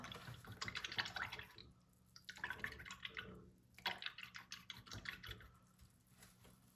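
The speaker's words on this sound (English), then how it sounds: "Rinse this out really well." A paintbrush swished and rinsed in a water container during color mixing, making soft, close, trickling and dripping sounds in three short bursts, fairly quiet and with no talk.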